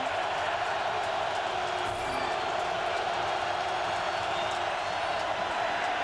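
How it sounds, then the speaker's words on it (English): Steady, dense stadium roar from the crowd at a 2006 Steelers vs Ravens NFL football game, loud and unbroken, with a commentator's voice faintly mixed in. "They're feeding off this crowd."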